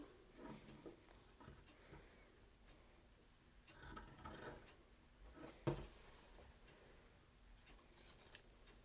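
Scissors trim excess fabric from the seam of a handmade cloth face mask, a few faint, quiet snips and rustles spread out over a near-silent background with no talk.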